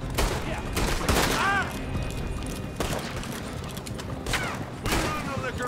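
Gunfire from the Western game Red Dead Redemption 2 rings out in several sharp bursts, loud and close, with ricochet-like whistles and a game score beneath, while a player's voice talks over parts of it.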